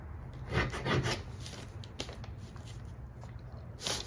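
A pencil draws a line across a paper sewing pattern, producing faint, short scratchy strokes in a few quick bursts with quiet pauses between them.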